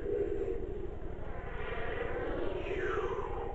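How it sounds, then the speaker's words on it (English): A steady aircraft drone from the GTA Online video game, a loud continuous engine roar with a faint rising and falling whine layered over it, unbroken for the whole stretch. "Why does that sound like a jet? What's the jet noise for?"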